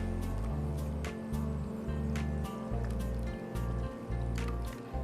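Millet soup is stirred with salt and a pinch of turmeric, giving a steady wet, squishy swishing with rhythmic sloshing pulses, close and fairly loud, with no voices.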